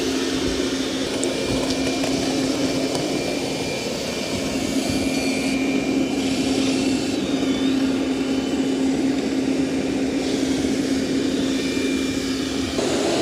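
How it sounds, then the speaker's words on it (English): Roborock Saros robot vacuum vacuuming and mopping at once, giving a steady, loud motor whir with a constant hum that runs unbroken throughout, no voices. "it is vacuuming and mopping at the same time right now."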